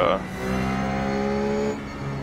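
A Ruf GT3 race car engine drones at Suzuka in iRacing, a steady harmonic whine rising in pitch as it builds speed for a couple of seconds.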